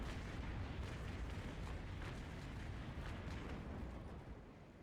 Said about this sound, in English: we'll fire off another broadside. This one should break his hull finally